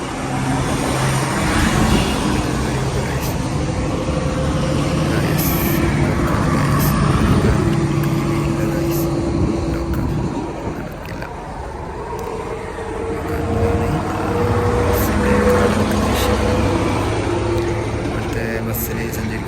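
Street traffic passing a bus stop in Riyadh, Saudi Arabia, a loud continuous roar of engines and tyres that swells and eases as vehicles go by, with a voice talking over it.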